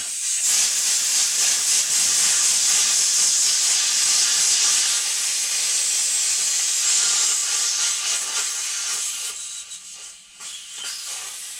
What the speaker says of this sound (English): Come on, that compressor, drain.